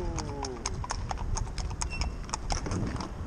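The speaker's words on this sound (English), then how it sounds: "this horse right alongside us doing exactly the same thing as she did before" A New Forest horse's hooves clip-clop steadily along a town street in the middle of a town in Holland. The beats are close and regular over a loud, rumbling background, with a brief whinny near the start.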